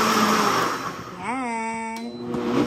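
Iwata Pro Blend Maxx blender whirring as it juices, a loud close motor whine whose pitch rises sharply as it spins up, then holds a steady high drone with brief gaps between presses.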